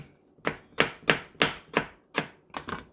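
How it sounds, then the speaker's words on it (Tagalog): A knife chops tomatoes on a board at close range: eight sharp, evenly spaced cuts in a steady rhythm, with nothing else heard. "And then kamatis. Ganon din po, wala namang batas dyan, just chop it"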